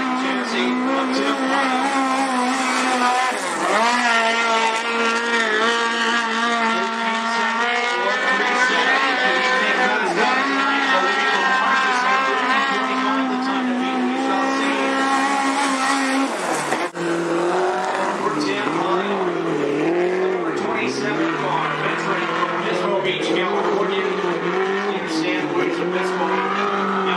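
Chevy-powered Spike chassis race car at Cottage Grove Speedway, a loud, continuous engine drone whose pitch rises and falls through laps, with speech over the track noise.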